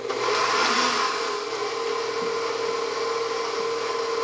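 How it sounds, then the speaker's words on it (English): An electric mixer runs on its lowest speed, combining wet croissant dough ingredients with yeast and eggs, giving a steady, loud whirring drone that holds evenly throughout with no talk. "I'm going to just mix this very briefly for about 30 seconds to combine the wet ingredients and get the yeast starting to activate"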